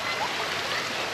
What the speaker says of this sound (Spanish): en temporada de lluvias es cuando esta cascada más se llena de agua, miren.